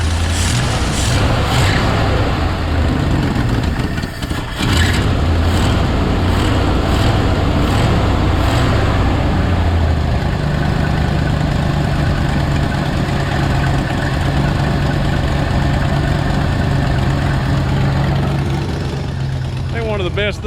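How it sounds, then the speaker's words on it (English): A 1968 Ford F100 truck engine runs loud and close, a rough throbbing idle that swells as it is revved, then settles into a steadier hum, with a person talking over it. "Okay, I'm gonna rev it up a little."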